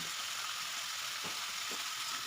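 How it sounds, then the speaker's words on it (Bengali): Vegetable khichdi with salt and turmeric being stirred in a pan, giving a steady soft sizzle with a couple of faint scrapes of the spoon. "দিয়ে আবারও ভালো করে একটু নেড়ে নিচ্ছি"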